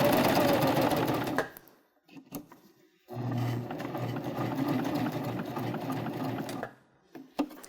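A sewing machine stitches a seam on a drawstring backpack, running loudly up close in two bursts separated by a quiet pause with a few faint clicks.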